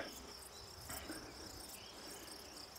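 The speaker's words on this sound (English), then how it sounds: "suddenly, I can hear the insects around me" Crickets and other insects chirp in a Romanian Carpathian forest, making a steady, high, shimmering drone with a faint pulsing rhythm. The sound stays quiet and unbroken, with no voices.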